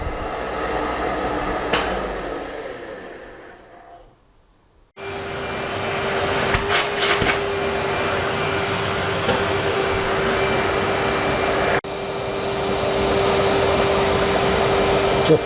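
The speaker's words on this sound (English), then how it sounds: "I can see the dust going into the vacuum." Herbert Junior Mk2 surface grinder with its stone running alongside a dust vacuum, a steady loud whooshing drone that drops away briefly, then resumes with a faint high tone and slight shifts in level.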